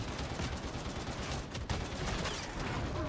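Gunfire from guns in the Warhammer 40K Darktide video game, a dense continuous stream of rapid shots with a steady, loud roar throughout.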